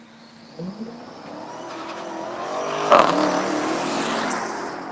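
A race car with a naturally aspirated small-block engine approaches and roars past at a circuit, its engine note swelling to a sharp peak midway then holding a loud, steady drone as it pulls away.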